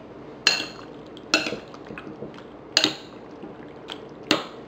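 A pork marinade of squeezed lemon and soy sauce is mixed in a bowl, with a few sharp clinks and wet sloshes recurring about every second, close and moderately loud.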